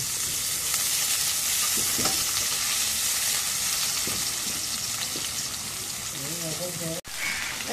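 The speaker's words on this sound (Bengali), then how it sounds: "এখন তেল দেই, কড়াইটা গরম হয়ে গেছে।" Oil sizzles steadily in a hot wok, a broad hiss close by with brief utensil knocks and a few spoken words over it near the end.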